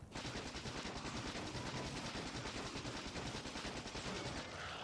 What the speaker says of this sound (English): Alright, grenade.